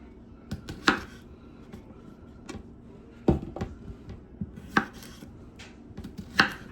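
A knife quartering potatoes on a cutting board, a series of sharp, irregular chopping thunks, close and clear with quiet pauses between cuts.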